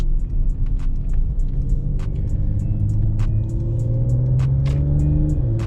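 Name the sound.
car engine revving while upshifting with paddle shifters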